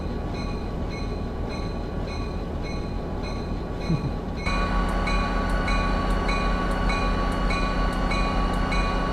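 A Caltrain commuter train rolls into a station platform with a steady, loud mechanical rumble, rhythmic clicking and a sustained tonal hum that grows heavier partway through, with no voices.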